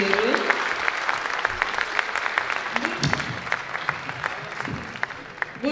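An audience applauds an orchestra and choir, with steady dense clapping running throughout, fairly loud and close, with faint voices mixed underneath.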